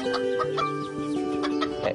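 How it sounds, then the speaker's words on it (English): Chickens cluck softly and repeatedly in a backyard animal shelter in Tel Aviv, close by under a steady musical bed. "Watching the chickens wander around his backyard in Tel Aviv"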